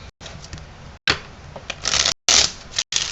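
Tarot cards are shuffled by hand in quick bursts of crisp riffling and flapping, separated by brief silent gaps, close and loud with no talking.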